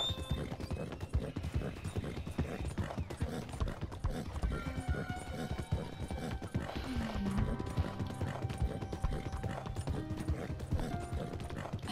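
Horse hooves clip-clop steadily in Red Dead Redemption 2, a quick, continuous rhythm under faint ambient game sounds, with a brief whinny partway through.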